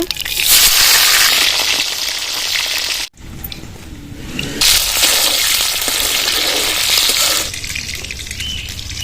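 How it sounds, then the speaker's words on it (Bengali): Eggplant fries in hot oil with a loud, dense, hissing sizzle that runs continuously, breaking off briefly once before resuming and then easing toward the end. "এবার বেগুনগুলো ভেজে নেব"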